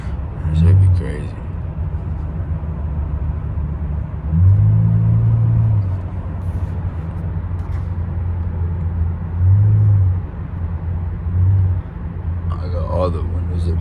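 Steady low road rumble inside a car cruising at night with the windows and sunroof closed, with a few soft swells in the low drone and occasional faint voices.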